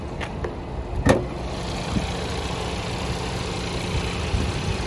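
A 2017 Hyundai Kona idles with its engine bay open, giving a steady, moderately loud hum under broadband noise, with a couple of sharp clicks near the start.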